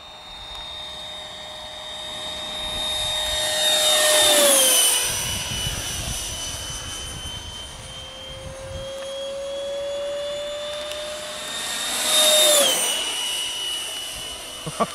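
A MiG-17 RC model jet with a 90mm electric ducted fan screams at full throttle, a loud high-pitched whine that swells and Doppler-drops sharply as it makes two close, fast passes overhead.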